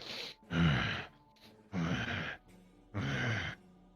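A voice imitates heavy breathing with three long, loud breathy exhales, each about half a second, separated by short quiet gaps with softer inhales.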